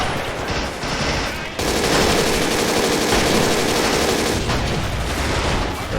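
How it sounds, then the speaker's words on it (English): Machine gun fire in the World War II strategy game Men of War: Assault Squad, a loud continuous burst of rapid rattling shots with no letup, with a brief dip near the start. "I thought our boys cleared out that machine gun. Absolutely no reloading or stopping on that gun."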